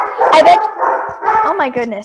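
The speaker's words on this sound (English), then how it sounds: "Excuse my dogs." Pet dogs bark and yip in short bursts close to the microphone, mixing with a person talking at the same time.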